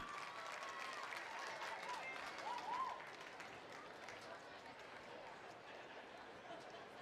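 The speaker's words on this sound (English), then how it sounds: "Let's give all these cheerleaders, football players, and trainers a big round of applause." Applause for cheerleaders, football players and trainers at a varsity football game between Denison and Melissa: a steady wash of distant crowd clapping throughout, under a public-address voice.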